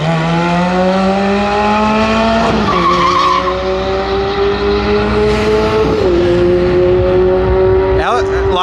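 A car launches hard off the line at a drag race, its engine note climbing in stepped pitch sweeps through several gear changes while tires squeal and skid, loud and close throughout.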